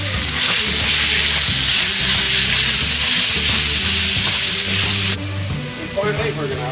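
Ground meat with Italian seasoning, pepper and salt sizzles loudly in a pan for lasagna, a bright continuous fry with stirring, while a person talks over it and the hiss drops slightly near the end.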